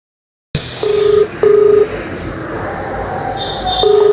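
Short electronic telephone keypad tones sound while a phone call is placed, three or four clipped beeps spaced unevenly over a steady background hiss.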